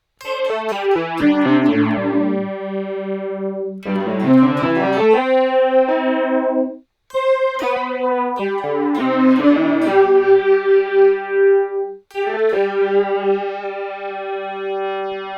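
An electric guitar runs through a synth pedal, producing bright, sustained tones with buzzy harmonics in a series of phrases separated by brief pauses.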